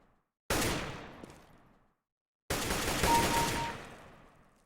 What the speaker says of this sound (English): I only want you to shoot 5 bullets at a time